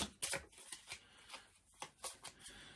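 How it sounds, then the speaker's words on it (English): Several quick bursts of a deck of This War of Mine board game cards being shuffled, crisp riffling flutters with short pauses between, close by and fairly quiet, no talking. "Give them a quick shuffle"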